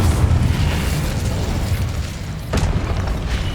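Incendio fire spell cast in Hogwarts Legacy on PS5, heard as a dense, roaring low rumble that swells into a sharp burst partway through, loud and continuous.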